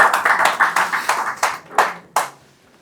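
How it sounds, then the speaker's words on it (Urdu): At an award ceremony, an audience claps in a steady rhythm for several seconds. The applause thins to a few last sharp claps and fades out. "اس کی زوردار تالیاں ہو جائیں ان کے لیے."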